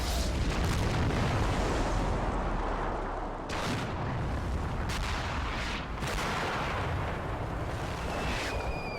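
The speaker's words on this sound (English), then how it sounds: "Completely destroyed by that Soviet artillery." Soviet artillery fire in the World War II tactics game Graviteam Tactics: Fateful Strike, a dense, continuous rumble of distant and nearby cannon booms, with several sharper reports cutting through the steady roar.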